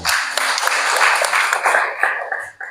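Congregation applauding during a church sermon, a dense burst of clapping close by that holds steady for a few seconds and then thins out and fades toward the end.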